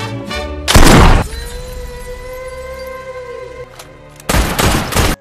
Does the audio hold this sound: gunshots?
yes